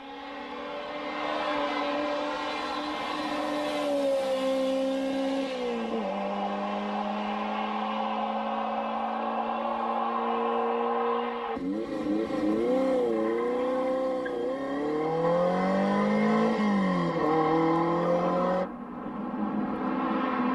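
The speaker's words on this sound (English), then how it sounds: "Nick Lawrence in his demon-looking Dino 308 GT4 testing how much traction is available on his practice run" A Ferrari Dino 308 GT4 driven on a damp practice run on the Isle of Man, its engine note rising and falling through gear changes, heard steadily at moderate distance.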